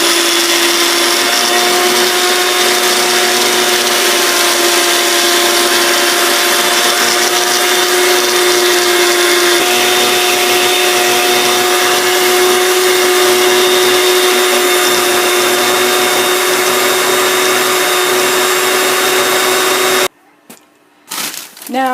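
A blender grinds whole oats into baby cereal with a loud, steady, high whirring drone that holds for about twenty seconds before abruptly cutting off.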